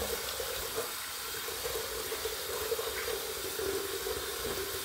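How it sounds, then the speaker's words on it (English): Warm water runs from a bathroom sink faucet turned up to its highest setting, a steady full hiss and splash that continues evenly without pause and with no talk over it. "I like to turn my faucet up to the highest setting"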